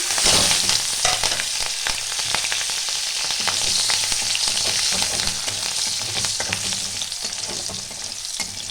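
Green chillies and nigella seeds sizzling loudly in hot oil in a pan for a Bengali katla fish curry, a constant crackling hiss with scattered pops and occasional stirring scrapes.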